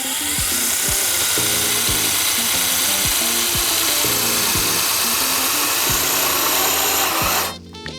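A Ryobi One+ 18V drill drives screws into plastic with a loud, continuous whirring grind that wavers in pitch as the motor strains against the material. It cuts off abruptly near the end.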